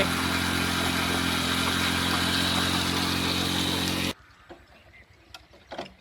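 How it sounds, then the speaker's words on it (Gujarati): Motorcycle at a bike wash: a loud, steady droning machine hum with spraying hiss runs for about four seconds, then cuts off abruptly, leaving faint scattered clatter. "જો મિત્રો બાઇક ધોવાનું ચાલુ છે"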